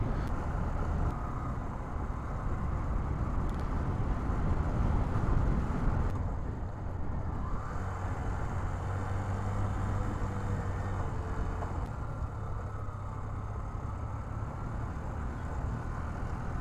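Motorcycle ridden along a foggy mountain road in the North Bengal hills, a continuous rumbling engine and wind roar at a fairly even level, with no talking.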